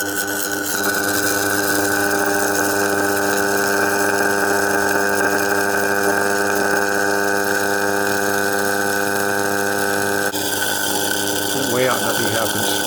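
A magnetic space propeller spins under 13,000 volt DC power, giving off a steady, loud electrical hum with strong sustained harmonic tones that hold for the whole stretch and shift slightly near the end.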